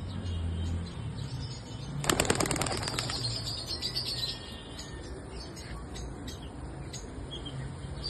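Pigeons released from a home racing loft burst into flight with a loud flurry of flapping wings around the two-second mark, followed by scattered chirps over steady background hum.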